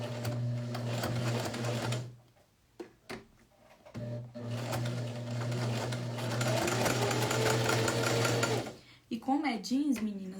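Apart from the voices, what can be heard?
domestic sewing machine stitching a jeans pocket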